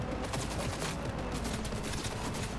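Dense, continuous gunfire in the video game Cyberpunk 2077 rattles without a break, rapid overlapping shots filling the whole stretch at a steady level.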